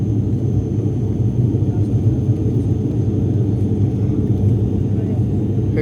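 Steady low droning cabin noise inside a turboprop aircraft climbing after takeoff, a continuous deep engine rumble filling the space evenly throughout.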